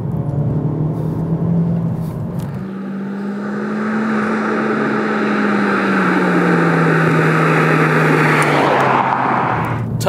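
A Honda Civic Type R's turbocharged engine pulls hard under acceleration, a loud sustained drone from inside the car that drops briefly at a gear change, then climbs steadily with road roar beneath.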